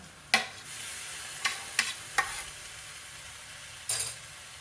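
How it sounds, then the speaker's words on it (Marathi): A Maharashtrian brinjal bharit mixture goes into a hot pan with the gas turned off. It gives a faint, steady sizzle, broken by a few sharp scrapes and clicks as a spoon stirs it. "आपण जे वांग्याचं मिश्रण तयार केलेलं आहे ते मिश्रण घालून घेऊया"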